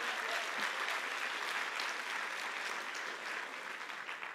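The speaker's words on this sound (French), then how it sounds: "Et d'ailleurs, on peut les applaudir." An audience applauds the organizing team at a talk on gut microbiota and mental health, a steady, dense wash of clapping from many hands that holds at a fairly even level throughout.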